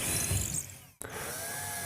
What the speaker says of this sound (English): Then drill holes through the drywall.